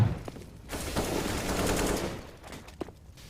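Video game gunfire comes as a short burst of rapid shots, loud and close, fading into brief quieter pops.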